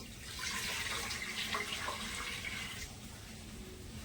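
Water is poured from a tap into a cooking pot set on a gas stove, a steady splashing flow that runs for a few seconds, close and moderately loud, then tapers off.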